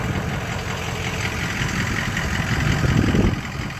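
A 2004 Ford F350 Powerstroke diesel pickup with stock exhaust idles steadily nearby, a continuous low rumble that swells slightly louder toward the end, with no talking.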